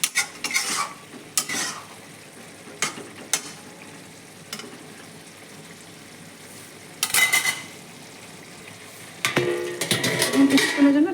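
Cabbage and fish curry being stirred in a pot, with a low sizzle and bursts of scraping and clinking from the utensil against the pot, the loudest stirring coming near the end, close and without talk.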